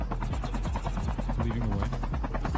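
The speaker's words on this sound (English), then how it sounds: "Grabbing the quick helicopter." A video game helicopter's rotor thumps in a fast steady pulse beneath continuous voice commentary during a tournament match, close and prominent throughout.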